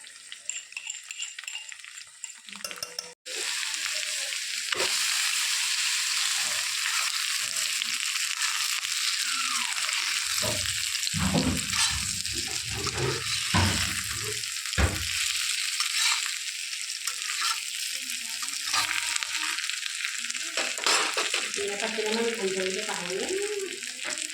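Steady, loud sizzling of chicken frying in hot oil fills the whole stretch, with occasional stirring clatter and scraping in the pan.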